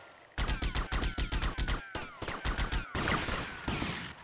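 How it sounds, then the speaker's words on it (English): Automatic gunfire in the Vice City Hardline mod of a Grand Theft Auto game, rapid loud bursts of shots in several runs with brief gaps, close and dominant with no talking. "He's shooting me through the wall, this guy."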